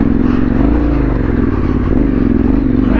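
A Yamaha T7 adventure motorcycle labors up a rocky step on a Yorkshire Dales trail, its engine droning loud and close with uneven revving and rattling scrapes from the rocks, no voices.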